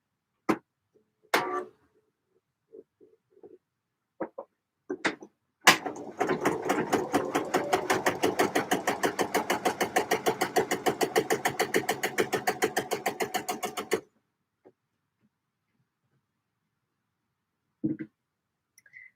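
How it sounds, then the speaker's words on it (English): A sewing machine top stitches knit fabric, running in a long steady burst of rapid even needle ticks for about eight seconds, preceded and followed by scattered clicks and knocks of handling. "I like to top stitch the other side so it looks even"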